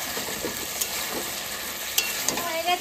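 Chicken and potatoes sizzle steadily in a pan of cooked-down spice paste, a constant loud frying hiss with a few soft knocks and stirring sounds.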